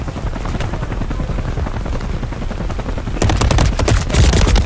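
Rapid automatic gunfire from a ranked match of the shooter Apex Legends crackles continuously, close and loud, growing denser and heavier in the final second and a half with overlapping bursts.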